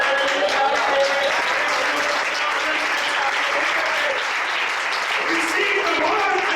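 A church assembly congregation applauds. Dense, continuous clapping from many hands fills the room at a fairly loud, even level, with a voice audible beneath the noise.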